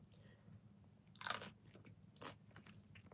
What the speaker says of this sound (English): I'm sorry if the chewing is triggering.